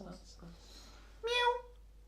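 A person's voice imitates a cat's meow with a single drawn-out call, sounding near and fairly clear after some softer talk and noise at the start.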